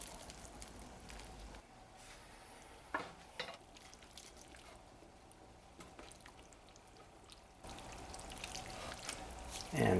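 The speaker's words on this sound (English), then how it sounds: "we add the entire pot of beans and water" Boiled beans and water poured from a pot into a large cast iron stew pot, a soft continuous splashing and gurgling pour at low level with a few knocks of the pot.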